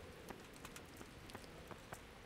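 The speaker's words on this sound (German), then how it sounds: "Es regnet immer noch." Steady rain falls in the medieval game Kingdom Come: Deliverance, a faint even hiss with scattered soft drop taps and no voices.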